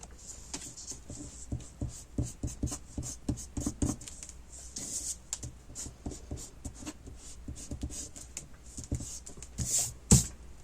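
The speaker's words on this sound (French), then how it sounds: "Je vais gommer un peu." An eraser rubbed back and forth on paper during a paper craft: quick, close scratchy strokes in uneven bursts, with a sharper knock near the end.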